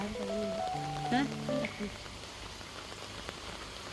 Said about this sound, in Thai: ฝนตกเปียกเปียก